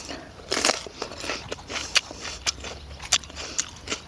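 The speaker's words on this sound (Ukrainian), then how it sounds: "я цей перець їм сама" Crisp biting and crunching of a raw, very sweet bell pepper, eaten unwashed, freshly picked with its top torn off. Sharp bites and snaps recur roughly every half second, close and fairly loud, with no talking over them.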